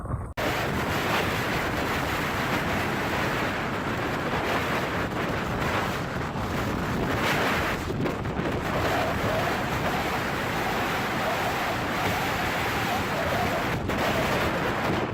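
Stormy ocean waves crash and roar continuously around a large Dutch-flagged fishing vessel, a dense, loud wash of surf and wind noise throughout with no clear pauses.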